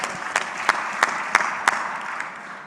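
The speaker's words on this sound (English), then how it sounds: "Let's give Carly a round of applause." Audience applause at an Ag Day recognition event, a steady patter of clapping with several sharper individual claps standing out at regular intervals, moderately loud and close.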